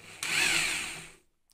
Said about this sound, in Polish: Teraz rozpędzimy wiertarką.